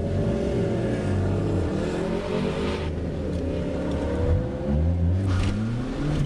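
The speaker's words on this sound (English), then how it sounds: "David Flynn currently on the left side coming downhill in the Boxster" A Porsche Boxster races downhill on a ProSolo autocross course in Farmington in 2012. Its engine roars loud and close with shifting revs throughout.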